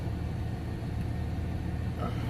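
A truck engine idles just after starting while still warming up, giving a steady, continuous low rumble with no voices over it.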